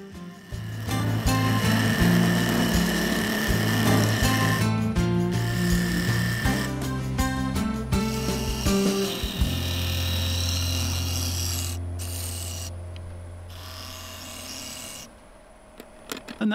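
The resin-filled surface of a turned wooden bowl is sanded and faired on the lathe, giving a continuous rasping rub over a steady motor hum that shifts in pitch and then winds down.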